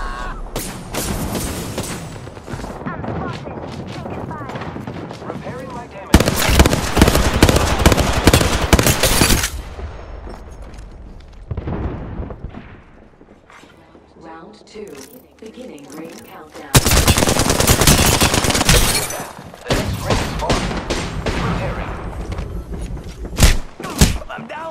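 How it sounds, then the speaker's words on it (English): Enemy gunfire in Apex Legends comes in dense bursts of rapid automatic shots with heavy thumps, loud and close, broken by quieter gaps with softer game sounds. "The enemies are shooting at me."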